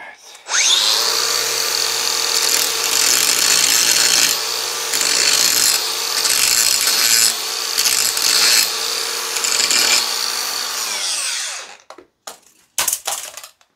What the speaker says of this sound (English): I'll put a grinding wheel on it and shape more of this right now.